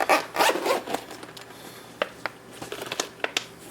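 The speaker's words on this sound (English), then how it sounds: "zip it up" A zipper pulled closed on a carrying case for a Tontec 7-inch HDMI LCD monitor: a long raspy zip up front, then a few short tugs and clicks as it is snugged shut, close and alone.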